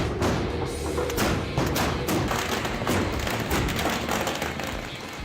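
Dense, continuous gunfire crackles from a Holi procession, many guns going off at once, with heavy thuds and sharp reports layered over a loud, roaring crowd-like din.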